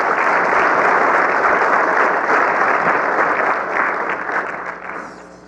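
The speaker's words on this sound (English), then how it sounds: "let's give him a round of applause as he comes up to" A keynote audience at a robotics summit applauds as a volunteer walks up, a loud, full burst of clapping that stays strong for several seconds and then gradually fades.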